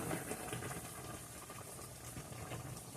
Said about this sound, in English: gravy going at a rapid boil